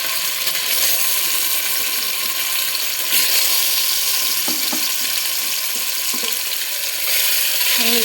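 Food frying in a spoonful of hot oil in a pan, a steady bright sizzle with a few small clinks, close and continuous.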